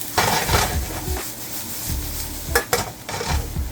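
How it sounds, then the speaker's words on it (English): Ramen with black pepper stirred in a hot pan, a spoon scraping and clanking against the metal in a few quick strokes while a faint sizzle continues underneath. "now I'm gonna give this a good mix"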